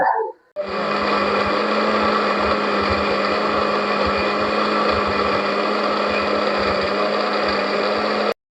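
Cooked tomatoes and onion are ground in a mixer grinder, which starts after a brief pause and runs as a loud, steady whirring roar before cutting off abruptly.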